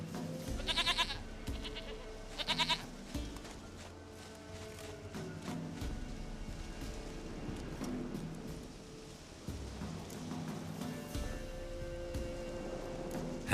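Goat bleats from The Witcher 3 come in short bursts over a busy game soundscape with a soft rain-like wash, the animal calls close and intermittent; no talking.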